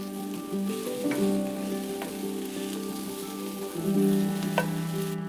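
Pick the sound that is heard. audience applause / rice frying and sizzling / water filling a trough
rice frying and sizzling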